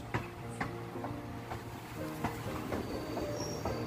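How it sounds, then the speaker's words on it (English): A train slowing to a halt at a village railway station on the Kollam–Sengottai line in India, with steady rumbling, repeated wheel clacks and faint squeals, and no voices. "Now, the train stops at a village railway station."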